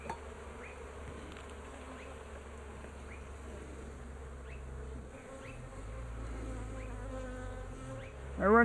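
Honey bees in an opened backyard Flow Hive drone in a close, continuous buzz, with individual bees whining past now and then and the hum swelling louder toward the end.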